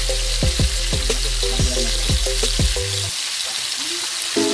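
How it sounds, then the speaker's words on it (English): Steady crackling sizzle of red grouper deep frying in hot oil, close and continuous, with a few clicks of utensils alongside. "We're gonna deep fry the fish."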